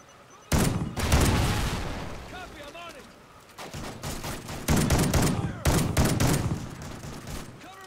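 Gunfire in a Call of Duty Ghosts multiplayer match of the Cranked mode: loud, close bursts of rapid automatic fire come in several volleys with short gaps between them.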